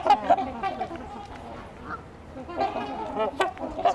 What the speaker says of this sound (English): There's a couple Canada geese here too.